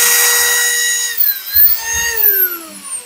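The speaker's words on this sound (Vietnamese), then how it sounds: "Cái con này là khoan điện." A Mac Pro electric drill whines as it winds down, its pitch falling steadily while a few low knocks and handling thumps sound nearby, without any talking.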